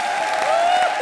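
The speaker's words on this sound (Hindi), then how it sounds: "ताली बजा रे" A brief, loud burst of audience applause on a TV comedy show, mixed with a sustained tonal music note running through it.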